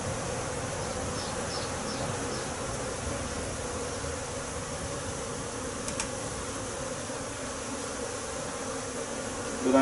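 Honeybees buzz on a brood frame held up from the hive, a dense, steady hum of many insects close by that lasts the whole stretch with no talking.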